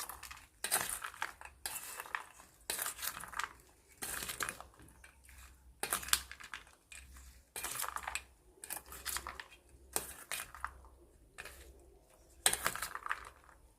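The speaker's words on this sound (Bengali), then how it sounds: "হালকা করে এবার আলতো হাতে এটা মিশিয়ে নিতে হবে।" Potato chaat is mixed gently in a bowl: faint, quiet clinks and scrapes of a spoon recur in an uneven rhythm over a near-silent background.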